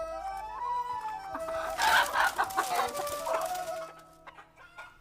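Chickens cluck close by in a busy farmyard chorus, with a rooster-like crowing call rising in the middle and fading toward the end.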